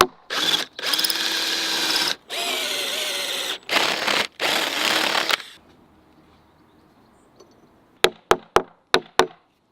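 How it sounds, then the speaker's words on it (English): A power drill with a spade bit bores through oak in several loud, sustained whining bursts separated by brief pauses, followed by a quick series of sharp knocks. "I always try to drill through just until the tip of the spade bit comes through"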